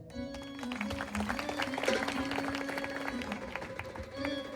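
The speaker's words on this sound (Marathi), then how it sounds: "तुमच्यासाठी तुम्हीच टाळ्या वाजवायच्या" An audience claps at a village goddess festival in Khaling, with steady applause spread through the crowd over a sustained tonal accompaniment and some voices.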